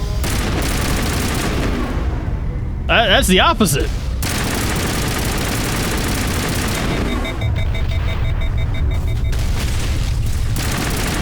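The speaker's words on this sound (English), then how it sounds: "That's a Geth turret." A Geth turret fires in the Mass Effect video game, producing a burst of heavy booming blasts and rapid gunfire over constant battle noise, with someone talking over it.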